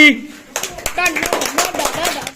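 A short burst of hand clapping follows a brief voice, quick sharp claps overlapping during a spoken English lesson with a child.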